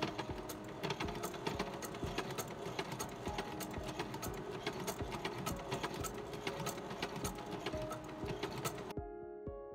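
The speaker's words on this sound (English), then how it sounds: "One of my favorite things about these old hand-turned machines, apart from how utterly delightful they sound when they sew" An old hand-turned sewing machine stitches the seams of an Edwardian walking skirt in a fast, even rhythm of mechanical clicks and clatter. It stops abruptly near the end.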